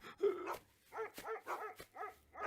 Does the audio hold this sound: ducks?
no